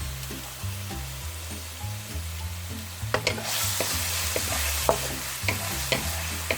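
Garlic-ginger paste drops into hot oil in a karahi and sizzles, the hiss swelling sharply midway, with close clinks and scrapes from stirring over a low steady hum.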